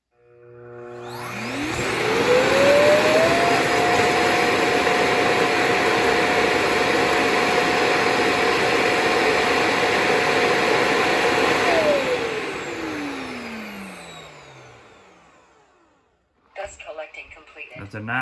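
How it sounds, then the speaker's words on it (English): Self-emptying dust bin of a Neabot NOMO robot vacuum kicking on, its whine rising in pitch, holding a loud steady suction roar for about ten seconds, then winding down, followed by brief talk. "Start dust collecting."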